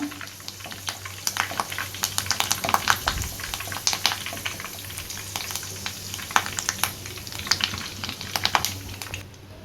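Curry leaves frying in hot oil for chicken 65, a steady crackling sizzle with dense sharp pops and spits throughout, close and moderately loud, without speech.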